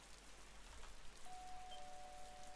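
Rain falling in the Roblox game Bloxburg: a faint, steady, even hiss that runs unbroken through the clip, with a thin sustained tone appearing partway through and no one speaking.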